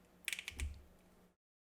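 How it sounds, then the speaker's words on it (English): Ratcheted arm joint of an AEW Cody Rhodes wrestling action figure clicking as it is raised, a quick close run of sharp plastic ticks followed by a soft thump, then silence. "You can possibly hear it clicking as I move it up"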